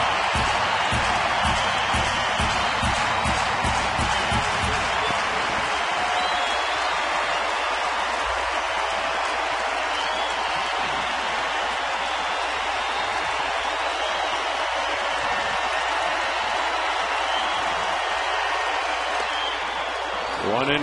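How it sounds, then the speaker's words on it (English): Crowd noise at a San Diego at Arizona baseball game, a broad, steady roar of fans that swells and holds for about twenty seconds. Rhythmic clapping comes in at the start, then gives way to sustained cheering. "Listen to the crowd."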